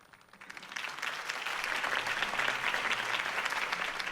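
A large crowd applauding, the clapping swelling from a thin start into a dense, sustained roar that stays loud to the end.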